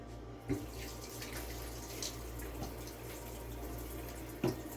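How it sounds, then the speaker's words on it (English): Hands are washed under a running kitchen tap before canning peppers: a steady, even rush of water flows throughout, with a few faint splashes and knocks, close by. "let me wash my hands"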